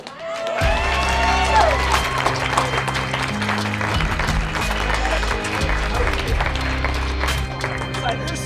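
An audience applauds at a live show, scattered claps and crowd noise running beneath loud, sustained music with a heavy low bass line throughout.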